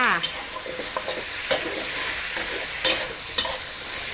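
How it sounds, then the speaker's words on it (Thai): Squid stir-fried over high heat in a hot pan, with a steady loud sizzle and clear scrapes and clacks of the spatula tossing the pieces at irregular intervals. "เสร็จแล้วใส่ปลาหมึกลงไป ใช้ไฟแรงในการผัดจ้า"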